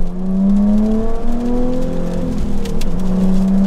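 A manual Jaguar F-Type convertible engine revving hard, a loud, steady growl with rising pitch sweeps as it climbs through gears on a winter day, close and continuous without talk.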